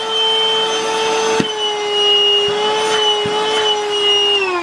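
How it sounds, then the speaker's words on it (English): A Hikeren cordless handheld vacuum cleaner runs continuously at close range with a steady high whine, punctuated by a few brief sharp clicks or knocks. "This has been my little quick review of the Hikeren handheld vacuum."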